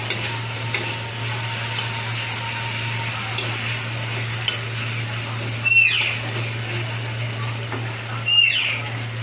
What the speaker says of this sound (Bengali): পেঁয়াজটা একটু নেড়ে চেড়ে ভালো করে ভেজে নেব।